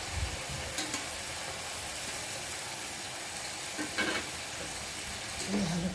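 A fish head fries in a pan with ginger, cumin paste, salt and turmeric, giving a steady loud sizzle with occasional scraping stirs and clinks of a utensil, with no talk.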